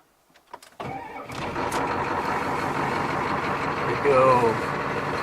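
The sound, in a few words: old pickup truck engine starting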